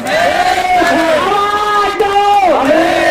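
A large crowd of advocates at a lawyers' protest rally in Varanasi shouts and cheers together. The loud, sustained chorus of rising and falling voices swells continuously.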